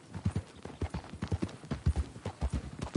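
Horse hooves clip-clop at a steady walking gait while a rider travels in Red Dead Redemption II, close and distinct, in a regular repeating rhythm with no talk over it.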